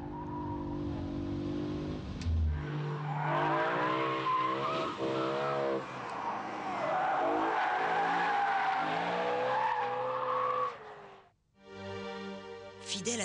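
A new BMW M3 coupe with a six-speed manual gearbox laps a race circuit west of Paris, its engine revving loudly nearby and its tires squealing through corners, with speed changes and a brief dip before the engine note returns.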